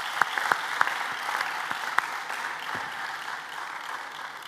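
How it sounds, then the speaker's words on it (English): Graduates applauding at a school graduation ceremony, a moderate, fairly distant patter of many hands with a few sharper individual claps standing out early. "Give yourselves a clap."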